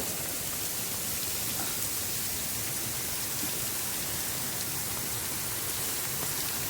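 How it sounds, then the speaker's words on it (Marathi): A steady, dense rush of falling water from Varjhot Waterfall fills the scene, broadband and unbroken, heard from close by with no voices. "हा पहा एकदम भारी असलेला वॉटरफॉल"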